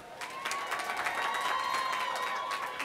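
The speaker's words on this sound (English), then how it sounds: "Let's give all of our honor graduates an applause." A large crowd applauds honor graduates at a university commencement ceremony, dense sustained clapping filling a big hall, loud and continuous with a faint whistle-like tone running through it.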